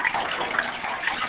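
Steady shower spray runs continuously while a cat is bathed, a close, even hiss of falling water with no pauses.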